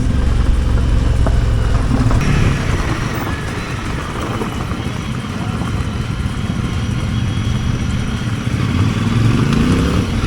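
A CF Moto 450MT motorcycle rides downhill on a New Zealand gravel road. Its engine drones loudly and continuously under heavy wind noise and rough tyre rumble, rising and easing slightly over the ride.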